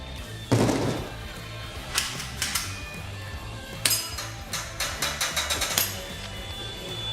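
Metallic clinks and clicks of a gun magazine being reloaded at a shooting range: one sharp clack, then a string of quick metallic taps and snaps against a low background hum.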